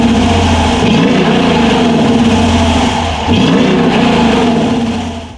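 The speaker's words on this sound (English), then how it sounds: "here is that exhaust clip" A 2017 Dodge Durango with a Hemi engine and dual exhaust revs up close and loud, giving a deep, throaty roar that climbs in pitch, dips briefly, then surges again before fading.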